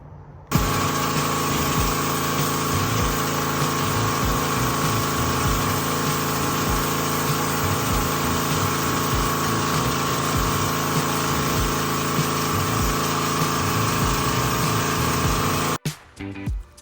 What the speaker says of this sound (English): I'm gonna continue to pressure wash this